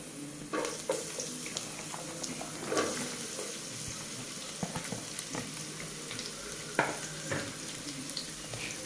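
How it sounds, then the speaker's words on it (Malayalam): Onions sauté in a pan for chicken mappas: a continuous close sizzle with intermittent stirring scrapes and a few louder clanks from the utensil. "ഇത് മൂന്നും കൂടി നന്നായിട്ടൊന്ന് വഴറ്റിയെടുത്തതിന് ശേഷം നമുക്ക് ഇതിലേക്ക് സവാള ചേർത്ത് കൊടുക്കാം"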